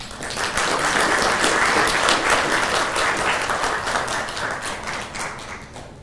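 Audience applause at a consultative meeting on the refugee situation at the Serena in Nairobi, a loud, dense crowd clapping that swells in quickly, holds steady and then gradually thins toward the end.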